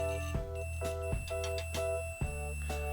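A multimeter continuity test on a Prokan K304 flashlight switch gives a steady electronic beep tone, briefly cut by a few soft clicks as it drops out and resumes, fairly faint with no talking.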